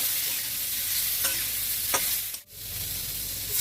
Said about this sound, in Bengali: সবজি ভালো করে নাড়াচাড়া করব।